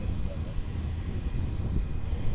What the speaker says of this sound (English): that's Fiji Airways Flight 935, the 737 MAX 8 touching down now